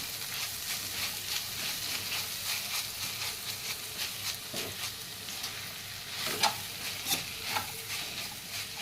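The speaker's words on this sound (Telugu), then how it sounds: "కలపాలి ఇప్పుడు బాగా." A spoon stirs meal maker curry with ginger paste and fresh coconut in a pan. A soft, steady sizzle runs throughout, with scraping strokes and a few sharper clinks against the pan, and there is no talk.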